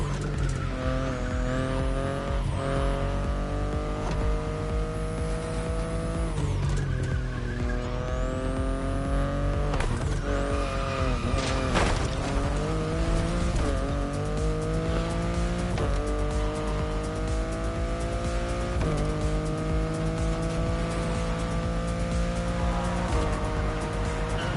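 Loud racing car engine from The Crew Motorfest driving game, revving up and down steadily for the whole stretch, with repeated sharp tire squeals and skids cutting through and no voices.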